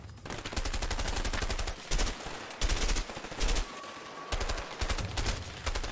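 Video game gunfire in dense automatic bursts, loud and continuous with brief gaps between volleys, heavy low thumps under sharp crackling shots.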